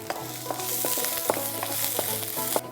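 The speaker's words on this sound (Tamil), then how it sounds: "இப்போ இதில் வந்து நம்ம கட் பண்ணி வச்சுருக்க ஜிஞ்சர், அது கூட பூண்டு, இது நல்லா வதக்கிக்கலாம்." Chopped ginger and garlic sizzle in hot oil in a pan, a loud steady frying hiss with a few stirring clinks close by.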